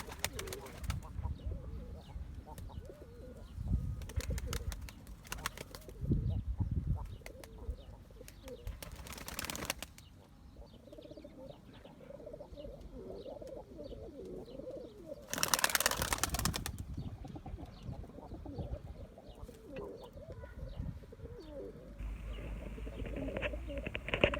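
Pigeons coo softly at close range in a loft, with scattered bursts of wing flapping and rustling, and a low murmur of background activity throughout.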